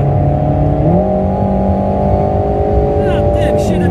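An Alpine A110 Pure sports car's engine revs close to 7000 rpm, a loud rising whine that jumps in pitch as the automatic gearbox shifts, with someone talking over it.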